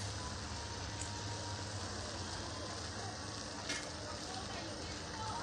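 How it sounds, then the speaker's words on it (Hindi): Ginger and tulsi tea boils steadily in a pot on a village stove, a continuous bubbling, sizzling hiss close by with no talking. "देखिए फ्रेंड्स, चाय बनने लगी।"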